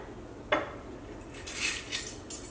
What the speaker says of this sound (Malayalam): മിക്സിയുടെ ഒരു ജാർ എടുക്കുക.